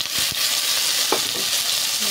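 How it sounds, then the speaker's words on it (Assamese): Sliced eggplant being stirred into hot oil already sizzling with onion, green chilies, dried red chilies and black cumin, giving a loud, steady frying hiss with a few spatula scrapes and no talking. "এতিয়া দি দিম ৰঙালাওখিনি।"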